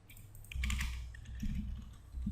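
Java code being typed on a computer keyboard: bursts of quick key clicks close by, separated by short pauses, with no talking.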